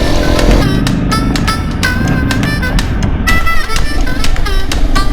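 Honda CRF Rally motorcycle ridden along a mountain forest trail: a loud, continuous engine drone rising and falling as the throttle changes, heard from on board with wind rush, and a voice talking over it.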